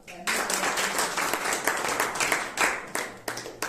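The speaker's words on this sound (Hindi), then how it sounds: "ताली बजाओ।" Listeners at a spiritual yoga class clap together after a brief pause, a loud, close burst of applause that holds steady for a few seconds before trailing off.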